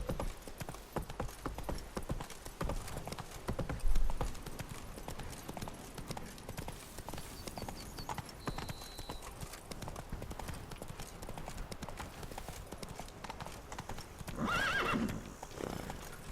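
The horse Roach galloping in The Witcher 3, with rapid hoofbeats throughout and a loud whinny near the start, mixed with game sounds and faint voices.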